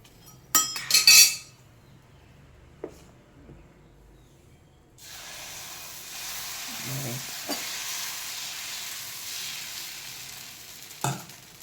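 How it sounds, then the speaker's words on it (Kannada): Rice and urad dal dosa batter sizzles on a cast-iron dosa stone, opening with sharp utensil clinks, then a steady loud frying hiss builds and holds with occasional scraping taps. "ದೋಸೆ ಹಿಟ್ಟಿನ ದೋಸೆ ಹಾಕುತ್ತಿದ್ದೆ"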